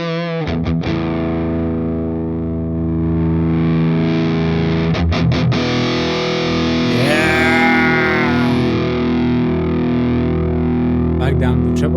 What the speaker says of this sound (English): So for the lead sound, I want to go with something mid-heavy, so maybe like there's a Soldano type of thing.